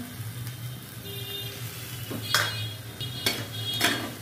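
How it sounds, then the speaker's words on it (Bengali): Potato paratha filling with chopped tomato and green chillies fries in a pan with a soft, close sizzle, broken by several sharp clinks of a metal utensil against the pan. "ভালো করে পুরটাকে ভেজে নেবো লাল লাল মতো"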